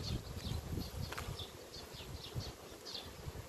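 Honeybees in an opened beehive during queen-rearing work make a steady low hum, with individual bees buzzing close by, fairly faint and with no talking.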